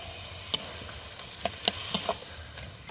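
Boiled cabbage, potato and chickpeas being stirred into sizzling fried spices in a pan, a soft steady sizzle broken by sharp scraping clicks of the spoon at irregular intervals, close by with no talking.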